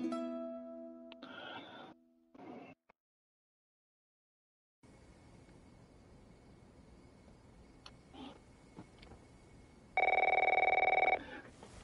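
A telephone rings in the video game The Last of Us Part I, opening with tones and short bursts, then a stretch of quiet room noise before one loud, buzzy ring near the end.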